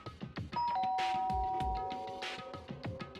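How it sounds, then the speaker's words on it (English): A doorbell is pressed, ringing a clear two-tone ding-dong chime close by with lingering tones, amid faint background sounds. "pressed the doorbell"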